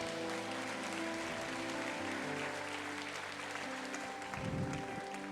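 A church congregation applauds during a Wednesday service, a moderate, even spread of clapping across the hall, heard over a low sustained musical hum that swells briefly near the end.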